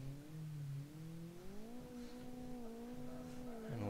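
Car tyres spinning in a burnout in a Forza racing game, nose pushed against an obstacle, with a steady, wavering engine drone held at high revs throughout, faint and continuous.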